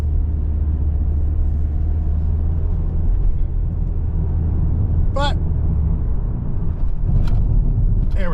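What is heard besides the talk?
2024 Toyota Corolla LE engine accelerating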